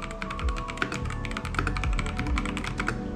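Rapid, continuous typing on a retro-style computer keyboard, with crisp clicky keystrokes in a dense, uneven rhythm, heard close up and alone without talk.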